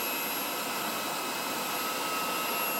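A Xiaomi mini vacuum cleaner runs and blows air into a sleeve, giving a steady, close, loud whooshing hiss with an even high-pitched motor whine and no pauses.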